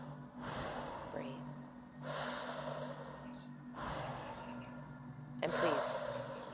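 Slow, deep breaths, each a soft airy inhale or exhale separated by short pauses, close and quiet, repeating three or four times, alone without talk.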